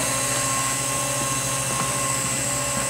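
A small radio-controlled model helicopter whines steadily, its motor droning with a high pitch and a continuous buzzing rotor hum close by.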